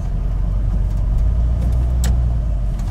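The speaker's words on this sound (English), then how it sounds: "Engine sounds nice and happy with fresh oil." A car with an AOD automatic transmission, just given fresh transmission fluid, idles nearby with a loud, steady low rumble that holds even throughout.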